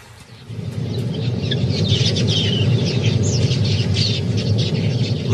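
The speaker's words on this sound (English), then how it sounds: "Large flocks of quilias are in the area, searching for seed and grain." A large flock of quelea birds gathers at a waterhole pool to drink, giving a busy mass of chirps and a whirring flutter of wings that swells in after a quiet start and then holds steady and loud.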